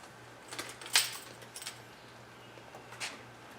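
A few light metallic jingles and clinks of car keys for a stored Saab Viggen, brief and close, scattered over a low steady hum with short gaps between.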